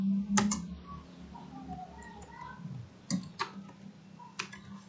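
JavaScript code being typed on a computer keyboard, a few sharp close key clicks in small clusters over a faint background hum.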